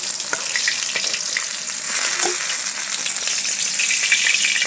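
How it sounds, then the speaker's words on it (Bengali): Fish fries in hot oil with a continuous bright sizzle and crackle, close and loud, with occasional light clinks and stirring noises over it. "এইভাবে বাকি মাছগুলো আমি ভেজে নেবো বন্ধুরা।"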